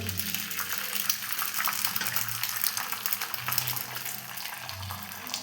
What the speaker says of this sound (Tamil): கல் ஹீட் ஆனதும் லைட்டாக ஆயில் ஊற்றி அரை கலக்கி வச்ச முட்டையை ஊற்றி